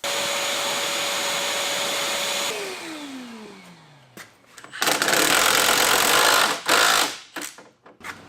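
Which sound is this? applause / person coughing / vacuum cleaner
vacuum cleaner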